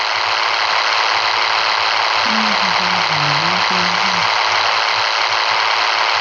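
A vehicle engine in the Call of Duty Mobile video game hums as a loud, steady drone throughout, with a brief wavering tone passing in the middle and no speech.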